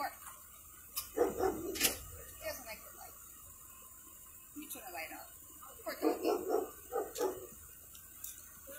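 A dog barks and yips in scattered bursts amid a scuffle, moderately close, with people talking intermittently in between and over the barking.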